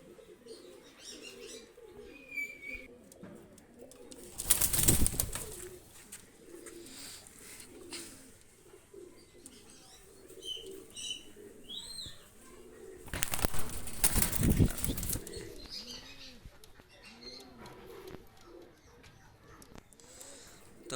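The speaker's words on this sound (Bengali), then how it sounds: "দুইটা কবুতর আমি ছেড়ে দেখাচ্ছি" Pakistani high flyer pigeons, a pair of them, released and cooing softly in repeated low coos, with two loud bursts of wing flapping as they take off; faint chirps in the background.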